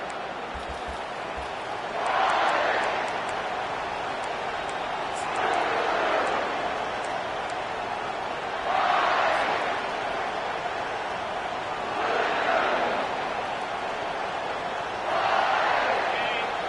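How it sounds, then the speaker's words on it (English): A stadium crowd roars in the College Football 25 video game, its noise swelling in repeated waves every few seconds over a constant background din. "This crowd, full throat, splitting the eardrums"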